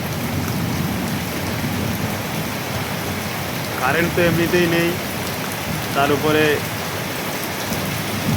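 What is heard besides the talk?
heavy rain with thunder during a night storm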